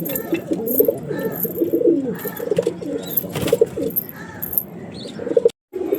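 Kalanka and Madras pigeons coo repeatedly in a loft, overlapping low throaty calls with occasional chirps and wing flutters, loud and close with a brief gap near the end.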